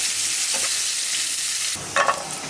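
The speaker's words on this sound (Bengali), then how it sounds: "হালকা করে একটু পটলটা ভেজে নিলাম" Pointed gourd (potol) fries in a pan with a steady, close sizzling hiss, broken near the end by a brief knock and stir.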